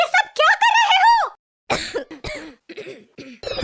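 A cartoon character coughs in short harsh bursts after a stretch of animated, sing-song vocalizing, the coughs close and loud with brief pauses between them.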